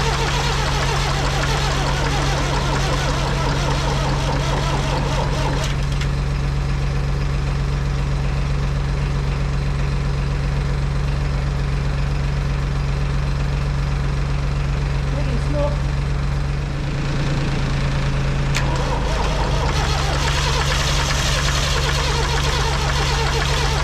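A David Brown Major tractor engine being spun over at speed by a Polaris, then catching and running, a loud, dense, continuous drone with a steady low hum, a brief dip near the end and a rougher surge afterward.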